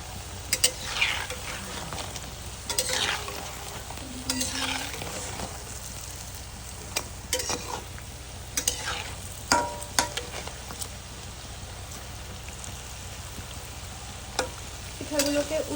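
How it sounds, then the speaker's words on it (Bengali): Puli pitha frying in hot oil, a steady soft sizzle with intermittent stirring scrapes and clinks of a utensil against the pan, close and fairly quiet throughout. "গরম তেলে ভাজা হচ্ছে পিঠা।"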